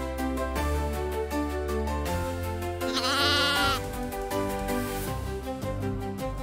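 Two goats bleat loudly as they lose their balance and fall off a bridge into the water, their repeated wavering cries heard up close over lively background music.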